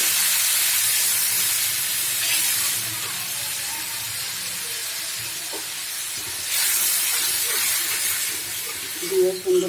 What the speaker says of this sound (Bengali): মশলাগুলোতে একটু পানি দিয়ে নিচ্ছি